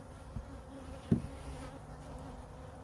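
A small bee colony in a hive, a faint low steady buzzing hum with one brief louder thump partway through.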